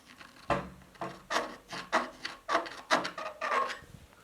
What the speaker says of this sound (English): Mark it with a metal thing, in this case a screwdriver.